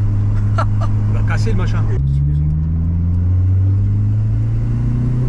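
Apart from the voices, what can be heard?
turbo noise of a carburetted VW Golf 2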